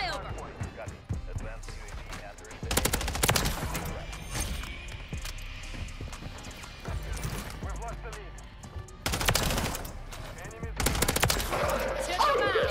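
MTZ 556 rifle fire in Modern Warfare 3 comes in two loud sustained automatic bursts with scattered shots between, mixed with game effects and someone talking over it.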